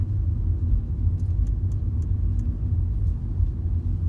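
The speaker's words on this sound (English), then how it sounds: "So we're just driving down the road." Interior of a car driving down a road, with a steady low engine and tyre rumble, constant and fairly loud, and a few faint ticking clicks partway through.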